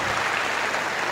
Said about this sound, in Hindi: जोरदार तालियां उनके लिए.